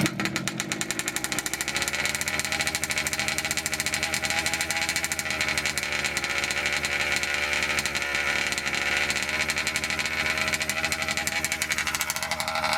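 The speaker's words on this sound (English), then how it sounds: "it's idling a little high. Idle's a little high." A small nitro engine in a Kraken Vekta 5 RC car idles steadily at a fairly high, buzzing pitch, running continuously and close by with no talking.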